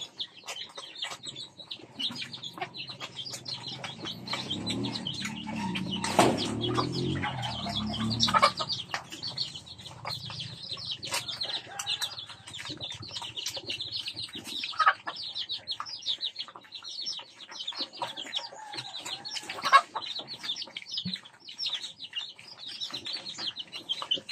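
A chicken clucks repeatedly and steadily close by, with a brief louder burst of flapping or rustling partway through and chirpy calls throughout.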